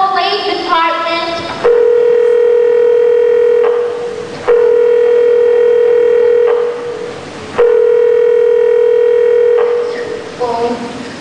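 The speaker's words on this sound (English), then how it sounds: "Ringing the police department." A telephone rings in a radio play drama, sounding three long, steady electronic rings separated by short pauses, loud and close, with brief tones at the start.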